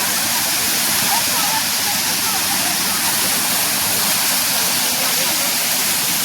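Panderi waterfall in Mandangad in the Konkan roars loudly and continuously up close, a thick, unbroken rush of falling water with voices faintly mixed into the din.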